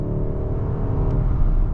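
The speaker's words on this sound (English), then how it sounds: "I do want to feel a little bit of acceleration, so we're gonna go into manual mode." Powerful 2023 BMW 760i V8 accelerating hard in manual mode, a continuous loud, deep engine roar with a steady rising drone and rumble, heard from inside the cabin with no talking.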